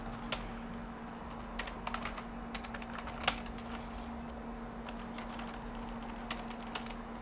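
Scattered keystrokes on a computer keyboard at an IBM RS/6000 workstation, faint and irregular over a steady low electrical hum.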